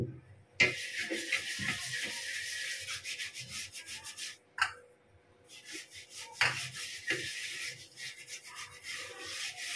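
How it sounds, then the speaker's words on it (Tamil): Abrasive scrubbing of a clay pot with rice flour, a close, rough rubbing that comes in long rasping strokes broken by a few short pauses and knocks. "இப்போ நல்லா இதை வாஷ் பண்ணிக்க போகிறோம்."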